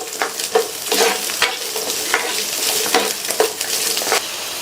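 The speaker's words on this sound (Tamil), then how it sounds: "இந்த வெங்காயம் நல்லா வதங்கி வரணும்." Onions, garlic and ginger sauté in hot oil in a pan, a steady close sizzle broken by repeated stirring scrapes and soft clinks of a spoon against the pan.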